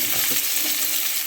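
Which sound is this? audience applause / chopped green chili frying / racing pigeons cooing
chopped green chili frying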